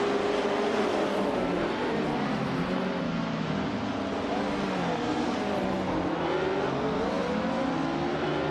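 Race cars roaring in a continuous, dense wall of engine noise, pitches rising and falling as they chase and close gaps on one another, loud and steady throughout with no voices.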